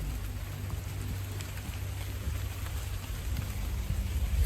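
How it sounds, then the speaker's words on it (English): Steady rain patters on bushes around a campsite, a soft continuous hiss of drops that swells slightly toward the end, heard alone without any voices. "It'd be just the rain anyway"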